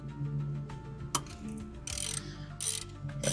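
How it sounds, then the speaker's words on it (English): A ratchet with a socket clicks in quick runs while removing the idler pulley bolt on a 2005-2014 V6 Mustang, close and mechanical, with a sharp clack partway through; no talk. "let's go ahead and put our socket on"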